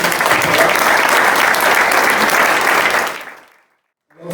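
Loud, dense applause from a large audience, sustained for about three seconds before fading quickly into silence.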